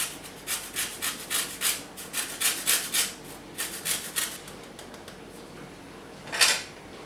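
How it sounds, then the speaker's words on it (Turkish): Lemon peel is rasped against a grater in a series of short, even strokes, fairly close and quiet, followed by a pause and one final louder scrape. "Bir limon kabuğu rendesi ekliyorum"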